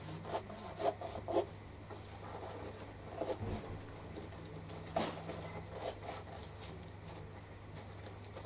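Scissors cut open recycled denim jeans, giving scattered crisp snips and rasping fabric scrapes at close range over a low steady hum, with a few irregular louder cuts.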